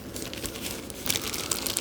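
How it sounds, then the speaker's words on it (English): A plastic bag crinkles and rustles up close in an ink-drawing session, with brief sharper crackles toward the end and no talking. "plastic bag."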